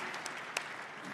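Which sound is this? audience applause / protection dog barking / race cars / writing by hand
audience applause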